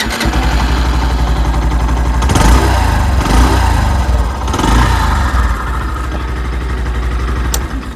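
A Honda Shine 100 DX motorcycle idles close by with a steady, throbbing low exhaust thump. The note swells briefly a couple of times as if lightly blipped, then settles back into an even, continuous idle.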